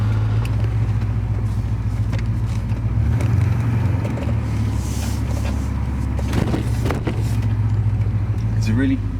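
A Porsche 928 fitted with loud exhausts driving through a quiet, narrow housing estate, with a deep, continuous engine rumble heard from inside the car through an open window, swelling briefly as the throttle opens.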